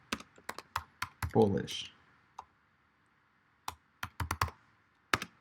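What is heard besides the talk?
typing on a computer keyboard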